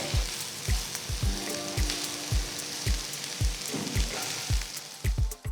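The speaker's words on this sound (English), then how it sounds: "So after adding the onions, saute for about 2 to 3 minutes." Thinly sliced onions sautéing with potatoes in a pan, a constant loud sizzle punctuated by regular low thumps of stirring about every half second, close and without talk.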